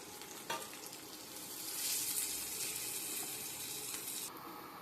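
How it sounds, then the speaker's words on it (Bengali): Mashed potato for aloo chop fries in hot oil with a soft, steady sizzle that swells midway, up close. A brief spatula knock comes near the start and another near the end. "আমি আলুটা তেলে দিয়ে দিচ্ছি।"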